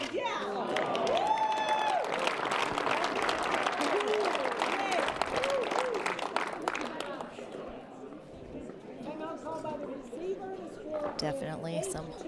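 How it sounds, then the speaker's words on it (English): A crowd at a professional pickleball singles match applauds and cheers after a rally, sustained clapping with scattered shouts and chatter, while other voices talk and cheer throughout. "Definitely some hometown love from the crowd after that rally"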